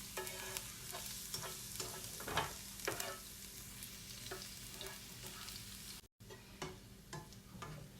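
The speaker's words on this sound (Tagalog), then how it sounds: "Ito na ibutang ang atong bawang. I-brown lang siya magamay." Garlic browning in oil in a pan for fried rice gives a soft steady sizzle, broken by several sharp scrapes and clatters of a spatula stirring it, close and fairly quiet with no voices.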